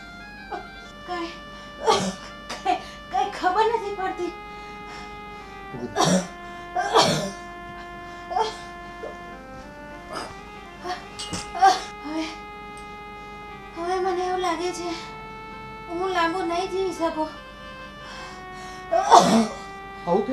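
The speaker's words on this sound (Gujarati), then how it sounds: "કેમ આટલી બધી ખાંસી આવે છે" A woman coughs repeatedly in short bursts during a dramatic scene, several harsh coughs scattered across the clip over a steady musical background, fairly close and loud.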